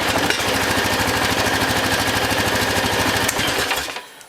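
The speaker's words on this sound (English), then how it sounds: "Motor seems to run real good." A Honda Foreman Rubicon ATV engine running close and loud, a steady fast mechanical chugging throughout that drops away in the final half second.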